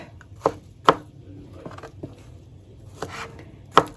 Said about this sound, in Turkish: Muzumu doğramaya devam ediyorum.